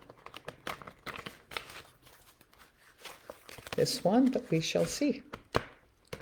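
A tarot card deck is shuffled by hand, giving quick crisp riffles and flicks that bunch up in the second half, close and clear, while someone talks over the cards.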